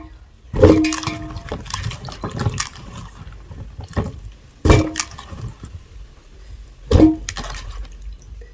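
Matooke being washed by hand in running water, with a few sharp splashes and knocks standing out over softer trickling and handling sounds.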